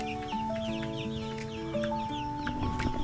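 Backyard brown egger chickens cluck and chirp in short bursts over a steady tonal background, fairly quiet throughout.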